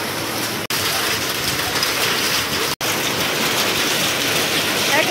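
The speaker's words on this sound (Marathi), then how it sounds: "एवढा जोरात पाऊस येतोय." Heavy village rain with hailstones pours in a dense, steady roar close by, hard drops pattering on surfaces throughout, briefly cut by two sharp silent gaps.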